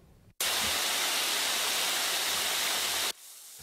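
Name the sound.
water gushing from a broken water pipe in a forest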